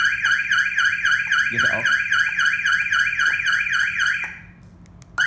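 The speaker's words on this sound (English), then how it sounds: "Now, this is shock alarm testing." Car alarm siren blaring loudly and continuously in a rapid warbling pattern during a shock sensor test, cutting off near the end; a brief spoken phrase and a thump occur partway through.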